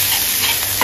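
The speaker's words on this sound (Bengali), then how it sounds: "ভালো করে ভাজে নেব যাতে রসুনের কাঁচা গিরানটা যেন চলে যায়" Garlic fries in a pan with dried chillies, a brief, loud, steady sizzle and hiss with a faint stir near the end.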